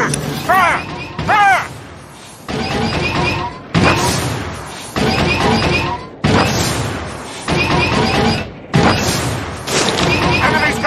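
Turret fire and explosions in a Star Wars video game warzone on Yavin 4, heavy booming blasts and crashes bursting repeatedly in loud clusters, with voices shouting in between.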